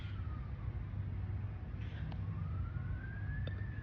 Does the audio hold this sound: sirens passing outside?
yes